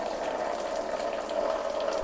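Coolant drains in a steady, continuous stream from the opened bottom plug of a Mazda MX-5 radiator, a constant trickling splash at close range with no voices.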